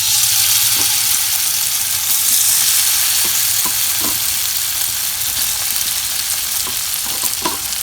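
Fish fries in a pan, a loud continuous sizzle with scattered pops and crackles, close up and with no talking.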